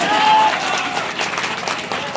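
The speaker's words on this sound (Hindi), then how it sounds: "एक बार जोरदार तालियां तो होना चाहिए।" An audience bursts into applause, a dense, steady wash of clapping that holds at fairly close range for about two seconds before easing slightly.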